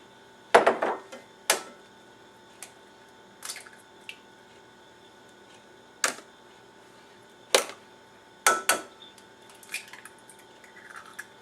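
Eggs are cracked one at a time into a separate container, each giving a short, sharp crack followed by a faint drip in a quiet kitchen, spaced a second or more apart.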